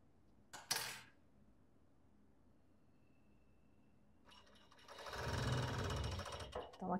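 A sewing machine stitches lace onto robe fabric, a sharp brief burst early on, then a steady mechanical whirring run building near the end, close and fairly quiet.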